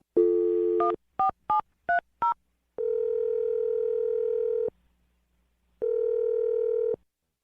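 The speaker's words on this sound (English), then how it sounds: "I'm going to dial his phone number right now" A phone is dialed: a burst of dial tone, then five quick touch-tone beeps in a row, followed by two long steady ringback tones separated by a pause, all loud and clear with no talking.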